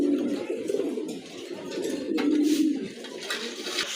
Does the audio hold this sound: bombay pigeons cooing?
yes